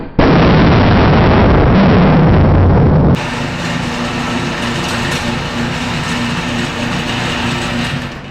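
A Longbranch Enfield No4 Mk1 WW2 rifle in .303 British fires a cordite round, one close, loud, sharp blast that rings out for a moment before fading into a steady low hum.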